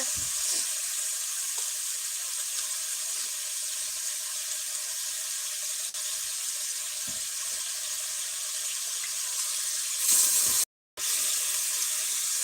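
Tap water runs steadily into a sink to defrost meat, a continuous close hiss of flow lasting several seconds with a brief break near the end.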